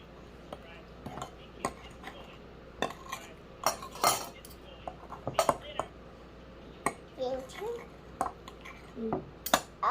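A knife scraping and tapping against a plate while French toast is cut at home, with scattered irregular clinks of metal on dish, some louder, amid soft background talk.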